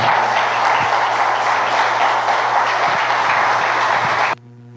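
Congregation clapping together at a church missions service: dense, steady, loud applause with no talk, stopping abruptly just before the end, leaving a low hum.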